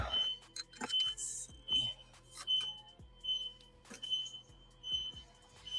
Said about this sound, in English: that fucking alarm, bruh, has been going off ever since